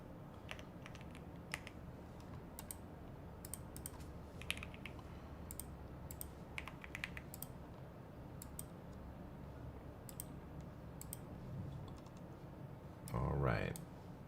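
Rapid keystrokes on an old computer keyboard clatter in steady bursts throughout, soft and close, over a faint room hum, with a short louder burst near the end.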